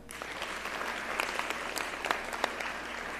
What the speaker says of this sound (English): we can still clap for him